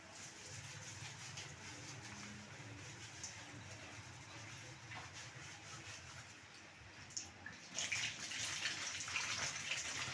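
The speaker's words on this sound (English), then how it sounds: "I like washing my vegetables and fruits in a running water." Tap water runs steadily for rinsing fresh fruits and vegetables, a soft continuous stream that swells louder and splashier toward the end, heard alone without talk.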